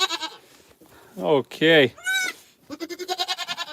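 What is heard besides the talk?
newborn baby goats bleating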